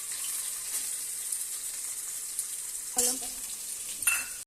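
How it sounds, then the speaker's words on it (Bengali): Two medium onions fry in a pan with bay leaves for a chicken and potato curry, giving a steady, close hiss of sizzling oil with a couple of brief clattering stirs near the end. "পেঁয়াজটা এদিকে একটু হালকা লাল লাল ভাজা হোক"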